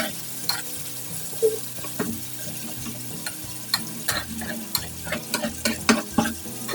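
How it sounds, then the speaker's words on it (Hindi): Battered chicken fries on a street-food tawa with a soft, steady sizzle, while a spatula stirs and scrapes in a continuous rhythm, close but fairly quiet with no voices. "तो यहाँ पे जो हमने घोल बनाया था वो हम इसके ऊपर डाल देंगे इस तरह, और इसको हम पकने देंगे इसके अंदर अच्छी तरीके से।"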